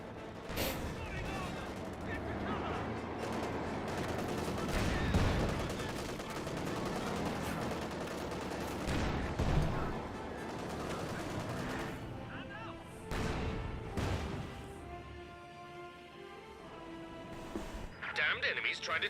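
A StuG assault gun fires shots in the Company of Heroes 2 strategy game, booming reports at several points over a constant background of battle gunfire and rumble, with voices speaking over the action.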